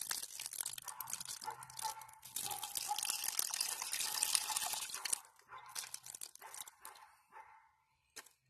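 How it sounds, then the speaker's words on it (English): Water is poured over a freshly potted azalea layer, hissing and splashing steadily into the soil for several seconds before thinning into scattered drips, close and alone. "Now we'll water."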